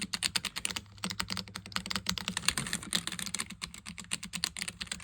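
Continuous, fast typing on an ROG Azoth mechanical keyboard, close up, with dense, even clicks that sound muted rather than sharply clacky, over a faint low hum.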